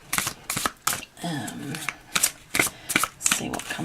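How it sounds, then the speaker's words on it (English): Large oracle cards being shuffled in quick bursts of papery riffling and soft slaps, close up, alternating with short pauses. "give these massive cards a bit of a shuffle"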